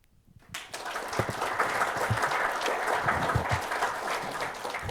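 Applause from a lecture audience welcoming a professor to speak on energy, starting after a brief silence, then rising into steady, moderately loud clapping that continues to the end.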